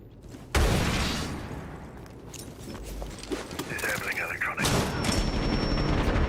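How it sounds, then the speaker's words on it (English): A grenade goes off with a sharp blast in a Rainbow Six Siege esports match, followed by steady gunfire and clattering movement. A second loud burst comes near the end, and game effects tones sit over the noise. "Tossing EMP grenade."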